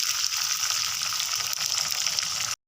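Tomato puree cooking in a pan for Rajasthani besan gatte curry makes a loud, close, continuous hissing sizzle that cuts off abruptly, with no speech over it.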